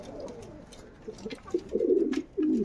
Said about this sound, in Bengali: সে ঘুঘু পাখি